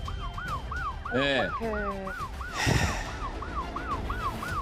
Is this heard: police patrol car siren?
yes